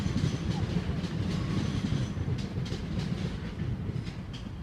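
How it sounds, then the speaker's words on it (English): A train rolls past close by, a loud steady rumble of wheels on rails with rhythmic clacking and faint squeals throughout, no voices. "hello train"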